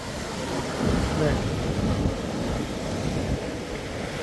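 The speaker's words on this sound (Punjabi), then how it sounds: "ਰੌਲਾ ਸੁਣੋ ਪਾਣੀ ਦੀ ਆਵਾਜ਼ ਸੁਣੋ" Fast-flowing river water at Hot Water Beach, New Zealand, makes a continuous broad rushing roar, close and fairly loud, with wind buffeting the microphone throughout.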